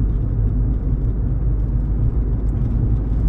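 Steady, loud engine and road drone from inside a VW Golf 7 GTI Performance with a six-speed DSG, cruising in top gear along a twisty mountain pass, a constant low rumble with faint tyre whir and no talk.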